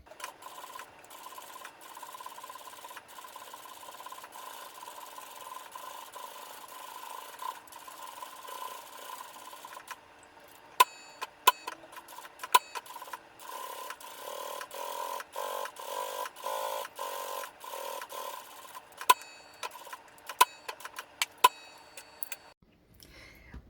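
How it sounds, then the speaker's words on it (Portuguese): A sewing machine topstitches around a leather bag handle, running in steady mechanical ticking stretches with brief pauses and sharper clicks as stitching stops and restarts, close and moderately quiet with no talk. "Vou para a máquina e vou fazer uma costura de pesponto bem bonita em toda a volta"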